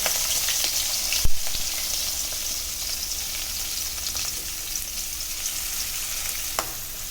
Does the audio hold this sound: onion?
yes